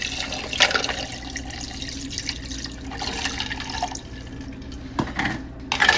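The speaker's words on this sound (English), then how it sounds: "And then I'm just going to add some water with that." Water splashes and trickles into a pot of ice for cooling boiled eggs, with ice clinking in bursts and a steady watery hiss throughout.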